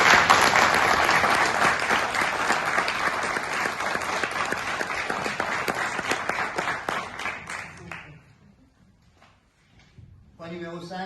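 Members of a municipal council at its installation session applaud together for about eight seconds, a steady room-filling clatter that stops abruptly, followed by near silence and then a burst of voices.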